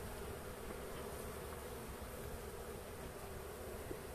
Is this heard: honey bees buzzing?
yes